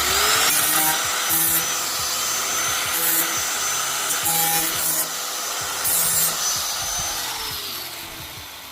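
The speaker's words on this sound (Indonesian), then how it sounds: "tinggal kita amplas pada bagian sampingnya agar tidak tajam" Sandpaper rubs repeatedly along the cut side edges of a homemade stove piece, making a steady, close, rasping scrape in back-and-forth strokes that continues for several seconds.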